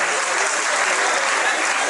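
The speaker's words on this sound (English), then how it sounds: "Put your hands together for yourself." Dense, loud applause from a seminar audience fills the whole stretch, steady and continuous with no pauses, the clapping close and enveloping.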